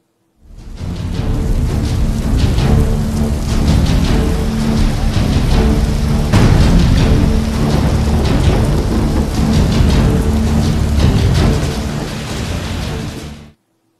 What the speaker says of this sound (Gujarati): અને હવે વાત વરસાદની.